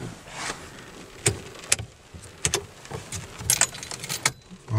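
Car keys jangle and clink against the ignition of a parked car with the handbrake on, in a run of sharp, close metallic rattles and taps scattered over a few seconds, with no one speaking.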